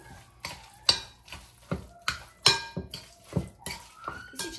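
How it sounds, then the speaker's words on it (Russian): A spoon stirs a spicy mixture with hot peppers in a bowl, making a steady rhythm of light clinks and scrapes, close and moderately quiet, with nobody speaking. "теперь это нужно сейчас хорошо перемешать"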